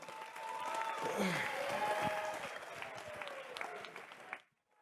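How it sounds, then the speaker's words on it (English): Crowd applause at an XFC Gladstone fight night after a bout, steady clapping and cheering filling the room for several seconds before cutting off abruptly, with some voices mixed in. "Give him a clap, guys."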